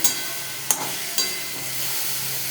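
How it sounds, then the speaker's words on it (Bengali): Thick spice paste of chilli powder, cumin powder, green chilli and ginger paste sizzles steadily in a pan, with a few soft stirring knocks over a constant frying hiss. "এবার মশলাটাকে ভালো করে কষিয়ে"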